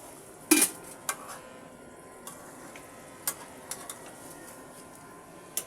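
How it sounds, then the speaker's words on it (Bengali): Chicken curry with soy sauce and tomato sauce is stirred in a pot, with a sharp metallic clank of a spoon against the rim followed by several lighter scattered taps over a quiet background. "সয়া সস এবং টমেটো সস দিয়ে এবার আমি ভালো করে নেড়ে নেব।"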